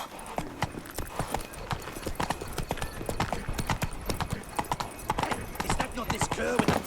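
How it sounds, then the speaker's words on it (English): Hoofbeats of a horse galloping in The Witcher 3: Blood and Wine, a steady rapid clip-clop rhythm running throughout, close and fairly loud, with game voices talking over it. "Run, Roach"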